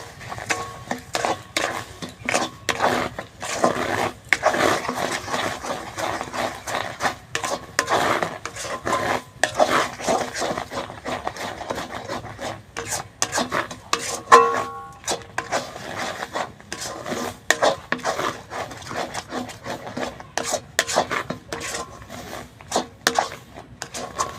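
Palm pulp with sugar and cracked cardamom is stirred in a pot, giving a long run of rhythmic scraping and rubbing strokes against the metal, close and fairly loud, with brief pauses and an occasional clink.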